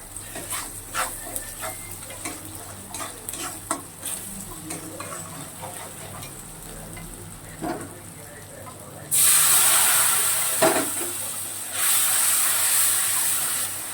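Spices with turmeric and chilli powder frying in a pan, a soft crackling sizzle and stirring scrapes that swell into a loud steady hiss midway, then ease and rise again near the end.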